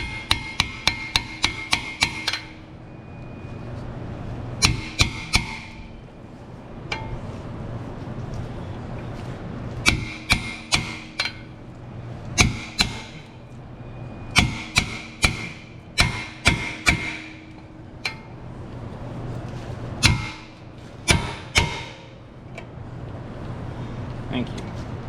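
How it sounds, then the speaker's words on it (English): A hammer strikes an impact screwdriver to loosen fasteners during a Ford Flex front brake job. Sharp, close metallic blows come in rapid bursts of several hits, separated by pauses, over a faint background rumble. "and then you slap it with a hammer"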